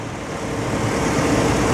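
A 2005 Chevy Silverado LT with a 5.3 V8 idles in a steady, even hum, close and continuous with no ticks or knocks standing out.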